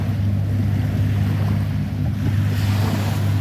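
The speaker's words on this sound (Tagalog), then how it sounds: "ito yung katamaran na sinasakyan namin na papunta sa ibang island" A catamaran ferry speeds across rough sea between islands, its steady engine drone and rushing hull-on-water noise mixed with gusting wind buffeting the microphone, loud and continuous throughout.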